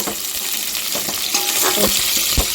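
Tempering spices frying for drumstick dal rasam, with a loud, close, continuous sizzle and crackle and repeated stirring knocks and scrapes in the pan.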